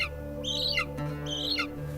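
An eagle in Kyrgyzstan gives two harsh, descending squawks about a second apart, fairly close, over a steady low background hum.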